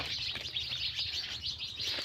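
Sparrows chirp steadily around a village, a dense, continuous twittering at moderate distance over a constant background hiss, with no talking.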